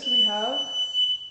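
A steady high electronic beep tone runs throughout, near a home's laundry room, while a person speaks briefly over it.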